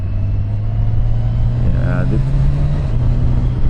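Kawasaki Versys 1100 motorcycle engine holding a steady drone while riding with a quick shifter, a low continuous hum under wind rumble, with a rider speaking briefly over it.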